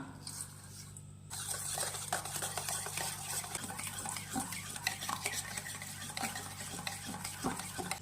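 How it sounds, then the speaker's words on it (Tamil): Mango cake batter with jaggery being beaten in a bowl, with steady scraping and tapping strokes that come close and fairly soft after a short quiet start. "பீட் பண்ணிக்கலாம் நாட்டு சக்கரை சேர்த்துக்கலாம்"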